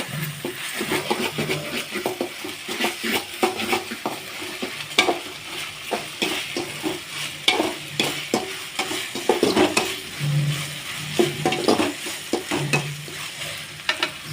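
Homemade ginger garlic paste sizzling in a hot pan while a spoon stirs it, with repeated scraping strokes over a steady fry, close up and with no talk.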